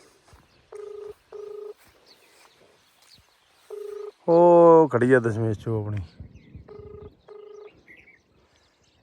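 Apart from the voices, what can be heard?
phone call ringing unanswered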